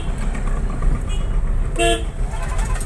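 A car horn gives a short, loud toot amid a steady rumble of night market traffic on a rain-damaged road, with engines droning throughout.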